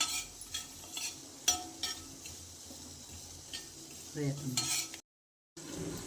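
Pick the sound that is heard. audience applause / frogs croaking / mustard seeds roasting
mustard seeds roasting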